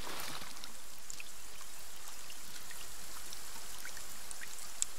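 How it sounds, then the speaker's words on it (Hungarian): Steady, loud rainfall in a video game, a dense continuous hiss of drops and pattering that fills the whole stretch with no voices over it. "milyen hangos az eső"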